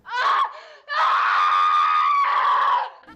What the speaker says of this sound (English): one of the victims decides to scream extensively instead of running